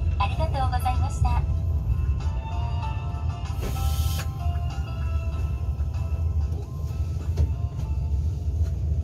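A KTX train heading from Busan to Seoul pulls into Gwangmyeong station with a steady low rumble of the carriage. Recorded onboard arrival announcements in several languages play over it, with a brief hiss near the middle.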